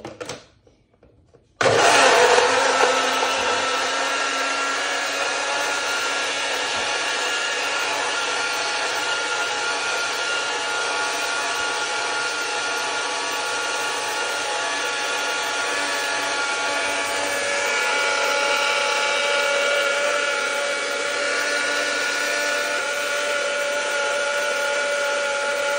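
An electric blender whirs loudly and steadily, starting abruptly after a short quiet moment and running continuously as it mixes a banana shake, with no talk over it.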